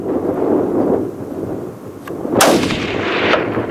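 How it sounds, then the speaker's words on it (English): A hunting rifle fired at an animal on a South African safari: one loud, sharp, close blast that rolls off into a long echoing boom over wind noise outdoors. "You can take a shot."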